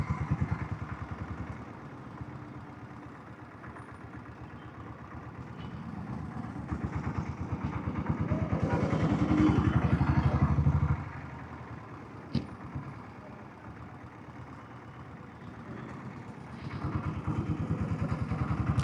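A diesel Royal Enfield Bullet motorcycle engine idles after an oil service, a steady low thumping that swells louder for a few seconds midway, then settles back to a quieter, even idle.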